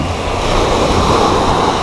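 Steady roar of ocean surf breaking close by at a shore in Dingalan, Aurora, a continuous wash of waves with some wind noise over the microphone.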